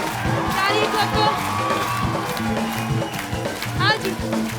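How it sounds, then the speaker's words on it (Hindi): Studio audience on a Hindi comedy talk show claps and cheers in a lively rhythmic burst, the crowd noise loud and mixed with music and voices. "ठोको ताली, ताली ठोको, ठोको ताली, ताली ठोको"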